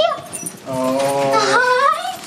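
A puppy whimpers and yips in a high, wavering whine lasting about a second and a half, close by and fairly loud.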